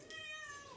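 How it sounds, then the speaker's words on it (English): A cat lets out a single drawn-out meow, close and fairly quiet, with a rising and falling tone and no voices. "Oh, kitty."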